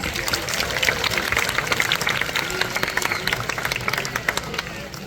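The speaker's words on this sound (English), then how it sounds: "I think she deserves a round of applause." Scattered audience applause at a night safari owl flight show, a moderate patter of claps from a crowd outdoors, somewhat uneven and not very loud.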